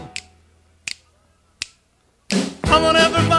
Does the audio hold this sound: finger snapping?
yes